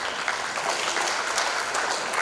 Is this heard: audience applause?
yes